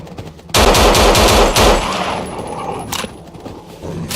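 Rapid automatic gunfire from the zombie shooter game No More Room in Hell blasts in a loud sustained burst of rounds, then trails off into softer clicks and handling noise.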